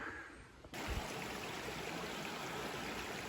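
A creek running beside the North Country Trail near Parker, Pennsylvania, just upstream of a bridge, gives a steady, close broadband rush of flowing water that fills in abruptly after a brief quieter moment and then continues unbroken.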